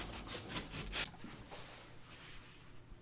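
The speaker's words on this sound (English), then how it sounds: "To cut an opening in drywall, I just use my drywall saw." A handheld drywall saw cutting an opening in a drywall sheet gives quick, rough rasping strokes in a steady rhythm, close and fairly quiet, then slows to a faint scrape.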